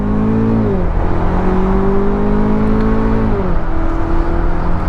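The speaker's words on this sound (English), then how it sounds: "So we're in first gear, pull out, full throttle." A 2018 Chevrolet Camaro RS with a turbocharged engine pulls out in first gear at full throttle onto a 60 mph road, its engine droning loud and steady with a smooth drop in pitch at each upshift.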